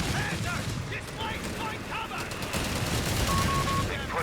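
Dense gunfire and artillery from a Company of Heroes 3 battle between German and US forces, with sustained crackling volleys and rumbling blasts continuing throughout at a steady, loud level.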